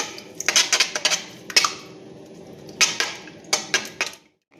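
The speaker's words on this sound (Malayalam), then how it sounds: "ഇനി നമുക്കിത് നന്നായിട്ട് മിക്സ് ചെയ്തെടുക്കാം." A spoon clatters against a bowl while a sugar mixture is stirred for a bread snack, making bursts of loud, close metallic scraping and clinking separated by short pauses.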